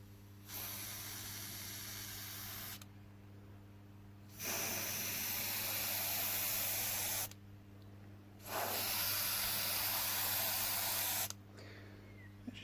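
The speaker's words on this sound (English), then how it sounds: "I'll just give you a little demonstration of how it sprays." Ozito airbrush spraying paint with the regulator at about 30 psi: three long, steady hissing bursts of several seconds each, separated by short pauses, close and alone under a constant low compressor hum.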